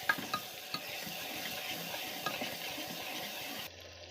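Spices sizzle in hot oil for a Gujarati bottle gourd curry while a spoon stirs them, a steady crackling bed with a few sharp scrapes and clicks near the start, close and fairly quiet, with no talking.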